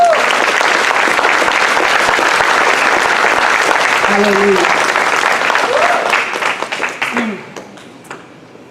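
A church congregation breaks into sustained, loud applause for the Lord, steady for several seconds before thinning out and fading, while a voice calls out briefly over the tail.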